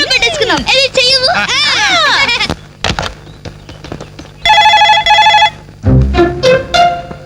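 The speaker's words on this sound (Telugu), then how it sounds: "రింగ్ అవుతుందిరా." A telephone rings in a Telugu film scene. Its short, bright electronic ringing burst cuts in between lively spoken dialogue.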